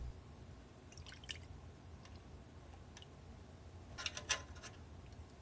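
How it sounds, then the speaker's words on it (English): Degreaser drips off parts of a Mannlicher 95 rifle as they are lifted from a pan, making faint, scattered drops and small ticks, with a brief cluster of drips near the end. "The next step is to fish all the parts out of the degreaser, move to a clean pan,"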